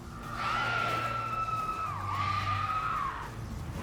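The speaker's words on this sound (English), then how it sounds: "Oh, I love that scream." Enemy scream in The Witcher 3 game, a long piercing wail that dips briefly and resumes, loud and close over low game ambience, about three seconds in all.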